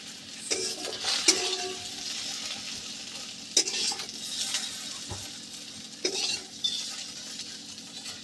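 Food frying lightly in a pan sizzles steadily while a utensil stirs and scrapes, with several sharp metallic knocks against the pan spaced through the stretch.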